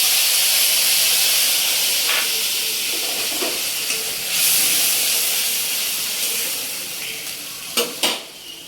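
A paste of ginger, garlic, onion and green chilli hisses loudly in a hot pan for a Bengali dahi katla fish curry. The steady, steamy sizzle fades slightly over time, with a few sharp clatters near the end.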